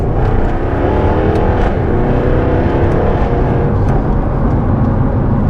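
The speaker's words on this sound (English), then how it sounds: "The sound of this exhaust is utterly phenomenal." Jaguar F-Type exhaust in dynamic mode with the valves open, a loud, steady, deep engine roar held close throughout with a few sharp crackling pops on top.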